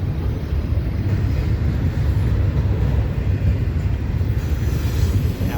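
A CSX intermodal freight train rolls through Cumberland, a steady, loud rumble of wheels and railcars with no breaks, heard close by and without any voices.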